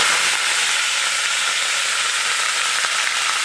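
Onion paste hitting hot oil with bay leaves and whole garam masala, a steady broad sizzle and hiss running evenly and close throughout, with no voices.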